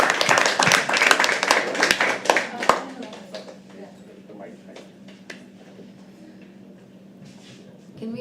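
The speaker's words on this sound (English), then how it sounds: "Keep clapping." An audience at a live poetry open mic at The Habitat claps for a poet, with a brisk burst of hand claps that thins out after a few seconds into scattered taps and room noise.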